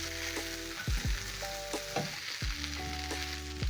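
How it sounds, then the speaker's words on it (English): Beef and chips stir fry sizzling in a hot pan, steady frying crackle punctuated by several thumps and scrapes as the food is flipped and tossed. "So you keep flipping and tossing around so that the fries can soak up"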